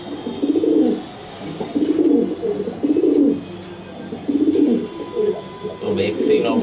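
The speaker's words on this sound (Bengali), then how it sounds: "সেই ভিডিওটার ভিতর তার কবুতরটা দেখো।" A racer pigeon cooing in repeated low, throaty phrases close to the listener, each coo lasting about a second with short pauses between.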